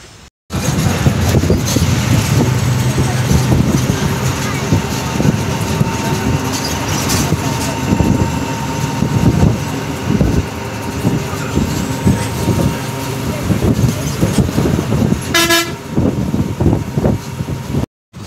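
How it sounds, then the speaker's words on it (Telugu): A bus climbs the road to Tirumala and takes a turn, its steady engine rumble and road noise continuous and close, with a brief high squeal near the end. "ఇప్పుడు మన బస్సు అయితే చిన్న టర్నింగ్ కొడుతుందండి."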